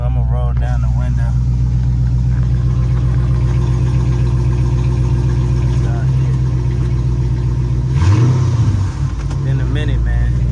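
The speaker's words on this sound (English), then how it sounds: "Y'all hear the exhaust." A car engine, likely an Audi TT, idles with a deep, steady exhaust rumble, then briefly revs near the end; a person talks over it throughout.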